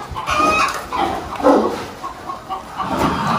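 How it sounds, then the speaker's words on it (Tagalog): Chickens cluck and murmur nearby in a steady, overlapping chorus, with a few louder squawks standing out. "Ito mga manok po namin dito."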